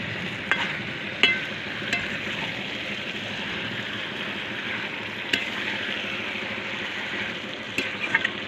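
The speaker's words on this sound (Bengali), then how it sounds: "মাংসটা কষানো হোক বন্ধুরা" Meat and spices sautéing in a pan for a chicken dish, a steady close sizzle with scattered sharp clicks of a spoon scraping, no voices.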